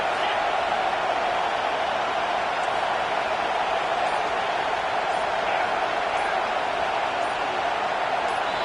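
Stadium crowd roaring at a college football game between TCU and Penn State, a dense and constant wall of cheering and noise at steady high volume for the whole stretch, with no pause and no distinct voice standing out.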